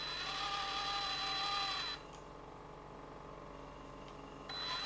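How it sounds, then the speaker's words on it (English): An FMS FCX18 Chevy K10 1/18-scale RC crawler runs its servo and gearbox in first gear, a steady close-up mechanical whine that drops to a quieter hum midway and then rises again near the end. "can you hear the servo? So that's the gearbox. So this is in first gear."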